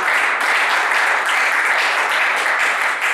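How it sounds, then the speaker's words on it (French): A church congregation applauding, with dense, loud, continuous clapping from many hands that holds steady throughout. "Acclamez le Seigneur"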